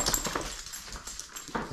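A dog whimpers and whines at home before a walk, short high yips and whines close by with no one talking.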